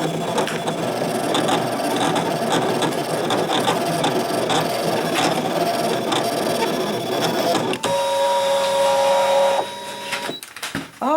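Brother ScanNCut cutting machine cutting an offset stamped image on a mat, with a steady close whirring, buzzing mechanical drone and rasping blade drag throughout, then a higher motor whine and clicks as the carriage moves near the end.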